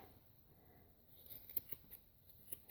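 Small scissors snip repeatedly at a large yarn pom pom, a series of faint, close, irregular clipping sounds against a quiet background.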